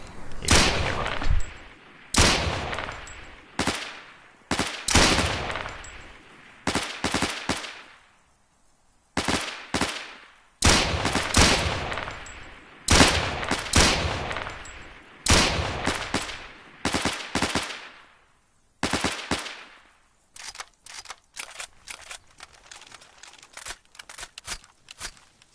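Rifle fire at a man-sized target 300 meters downrange: sharp, loud shots in rapid bursts and strings, each with a short ringing tail, separated by brief pauses, ending in a quicker run of lighter cracks.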